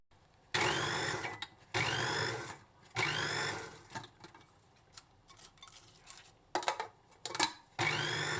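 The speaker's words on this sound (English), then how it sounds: "We use the blender for quick and easy chopping." A blender whirs in several loud bursts of a second or so each, chopping cabbage, separated by short pauses and clattering, close by.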